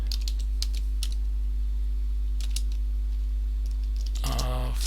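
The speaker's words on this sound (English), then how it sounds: "in this prompt box we can type something like write" Typing on a computer keyboard into an AI prompt box: sparse, light key clicks scattered over a steady hum, ending in a brief burst of faster typing.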